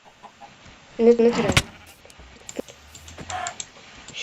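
A couple of short chicken clucks from the video game Minecraft, followed by a sharp click, while someone speaks briefly nearby over faint background noise.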